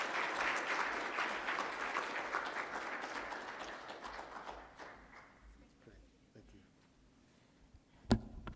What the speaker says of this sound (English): give Peter a final applause for his presentation